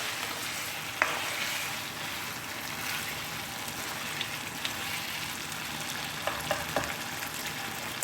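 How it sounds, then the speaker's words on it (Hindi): Chicken karahi masala frying in oil until the oil separates, a continuous soft sizzle with occasional light stirring taps, no voices. "अब हम इसकी अच्छी तरह से भुनाई कर लेंगे जब तक कि इसका ऑयल अलग हो जाए मसाले से"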